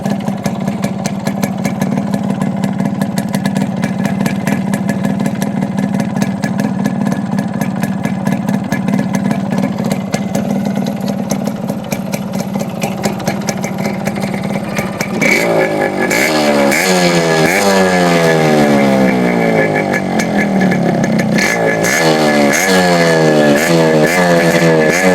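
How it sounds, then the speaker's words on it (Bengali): A Yamaha RX100 motorcycle in fresh condition idles with a steady, loud two-stroke putter, then revs up repeatedly in rising and falling bursts, up close with no talking. "সাউন্ড শুনেন একটু গাড়িটা।"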